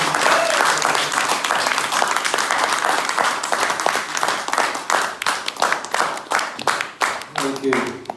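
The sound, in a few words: audience applause at a poetry reading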